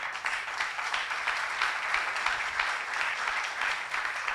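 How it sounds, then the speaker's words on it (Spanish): Audience applause at an Argentine governor's public address, a steady, fairly distant wash of many people clapping that continues evenly without pause. "Aplauso a Bussi, por favor."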